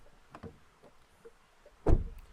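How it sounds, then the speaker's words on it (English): Front door of a Leapmotor B10 car shutting, a single solid thud near the end after a few faint clicks and handling noises, close and otherwise quiet. "So much better closing sound on the front doors."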